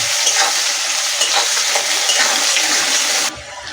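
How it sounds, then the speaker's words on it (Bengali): Chopped onion fries in oil tempered with cumin seeds for a banana-flower dal while being stirred, making a loud, continuous hiss and crackle with soft scraping, close up and with no talk. "এবার দিয়ে দেব পেঁয়াজ কুচিটা। পেঁয়াজ কুচিটা একটু ভাজা ভাজা লাল লাল করে হলে তারপরে অন্য মশলা দেব"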